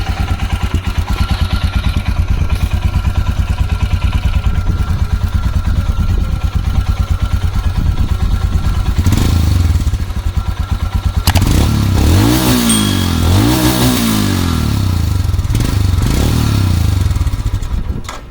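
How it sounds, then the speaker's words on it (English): Exhaust note of a Royal Enfield Himalayan BS6 adventure motorcycle, a loud close thumping single-cylinder idle followed by several sharp throttle revs rising and falling, with no talk. "Now let's hear the exhaust note of the Himalayan."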